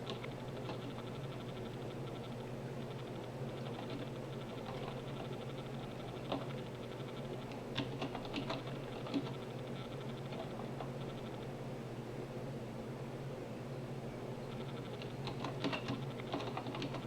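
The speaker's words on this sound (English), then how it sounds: "right now I'm just typing to somebody in the live chat" Fingers type on a computer keyboard while someone messages a live chat, a steady patter of soft key clicks with scattered louder taps and short bursts, set against a low room hum.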